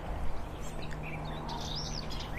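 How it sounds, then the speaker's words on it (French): Faint birdsong chirps and whistles drift over a steady outdoor background rumble, several birds calling intermittently at a distance. "J'espère que vous arrivez à entendre les oiseaux."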